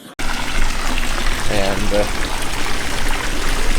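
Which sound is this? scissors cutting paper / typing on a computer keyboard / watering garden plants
watering garden plants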